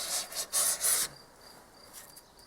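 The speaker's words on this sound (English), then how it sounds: "takes off these tiny little shavings, and you can adjust it" Adjustable hand tool blade shaving tiny curls off wood for a French door gate, a few short raspy scraping strokes close by, followed by a quiet pause with faint ambient sound.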